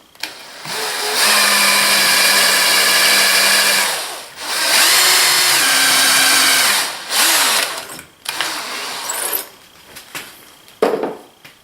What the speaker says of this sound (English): So I'll just drill this one first